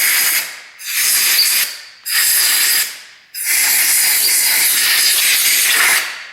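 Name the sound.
compressed air blowgun blowing off motorcycle engine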